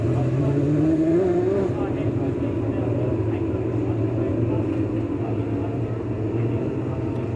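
TQ midget race cars circulating slowly through the infield at a New Zealand speedway, a steady engine drone with a brief rising whine early on, heard under a commentator's voice over the loudspeaker.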